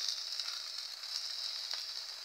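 Chopped tomatoes frying in a pan for tomato rasam, a steady soft hiss of sizzling oil with faint bubbling and no voices.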